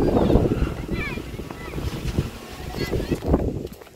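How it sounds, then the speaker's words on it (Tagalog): Strong wind buffets the microphone with a steady low roar during outdoor kite flying, while voices speak intermittently over it. "lakas kasi ng hangin"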